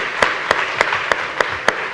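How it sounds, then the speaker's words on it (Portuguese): Church congregation giving a round of applause for child actors, a sparse set of six distinct, evenly spaced loud claps close by, with no talk. "Vamos dispensar os nossos atores aqui nessa manhã com uma salva de palmas?"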